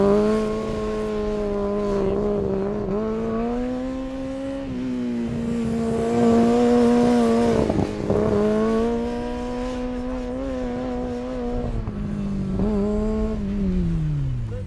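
A Formula Student race car laps a circuit at close range, its engine holding a steady, buzzy harmonic drone that rises and falls with throttle. Brief dips mark shifts and corners, and the engine sound never stops for the whole stretch.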